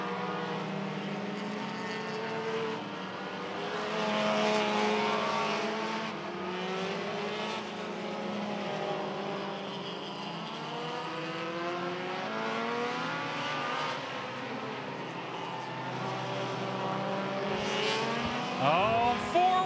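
Front-wheel-drive race cars roar around the Irwindale Speedway roval in an enduro race, several engines rising and falling as they pass, with a steady loud drone throughout and a sharp burst near the end.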